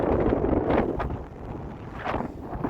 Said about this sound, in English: The wind's hitting me now.